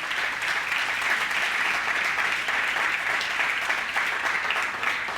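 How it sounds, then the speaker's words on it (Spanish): A church congregation breaks into strong, sustained applause during a Spanish-language sermon, a dense even wash of many hands clapping that stays loud and steady throughout without talk. "Vamos a dar un aplauso fuerte a Él."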